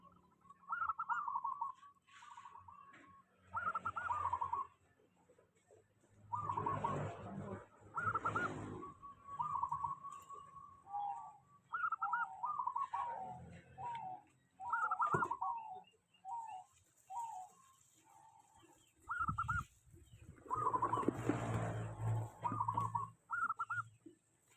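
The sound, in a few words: perkutut zebra dove named Rawit cooing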